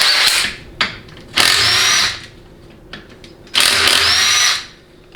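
A power tool drives out 10 mm bolts on a 4L80E transmission, firing in loud, close bursts of whirring with short rattles between them. No voices are heard.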